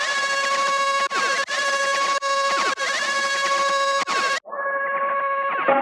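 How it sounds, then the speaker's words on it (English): Buzzy, bright synth tone that wavers like a crying baby, played as sustained notes with brief gaps, then dropping to a thinner, quieter sustained tone near the end. "I don't know why I called it baby synth, but it kind of sounds like a crying baby."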